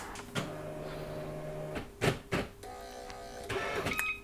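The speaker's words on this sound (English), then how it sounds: "Much like a normal printer or something, it has to like align itself first." Olympia Standard 200i, a large mid-1980s A3 electronic typewriter, powering up and self-aligning: motor whirs, sliding carriage runs and several sharp mechanical clunks and clicks, close and alone.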